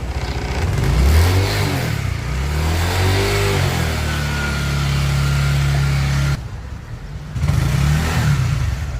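Honda Wave 125i motorcycle with a worn-out clutch, the engine revving up and down in loud, close swells, then briefly cutting back before rising again.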